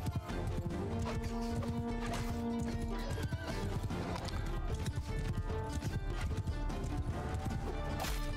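Horses in Mount and Blade Bannerlord gallop with dense, continuous hoofbeats and neigh now and then, loud and close amid battle noise, with some talk underneath.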